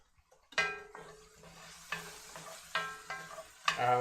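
Chili ingredients fry in a pan while a utensil stirs and scrapes them in repeated strokes, a soft sizzle running underneath the clattering, close and moderately quiet.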